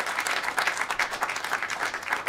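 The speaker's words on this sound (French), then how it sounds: "On peut les applaudir." A small audience at a Quebec sports-talk podcast taping claps steadily, a moderate, even patter of hands throughout with no voices over it.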